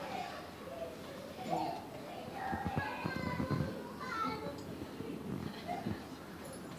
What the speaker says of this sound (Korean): 저 아이들 소리가 내 인형에 다 들어가네.